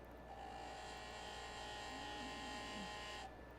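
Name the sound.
grinding a facet on a gemstone cabochon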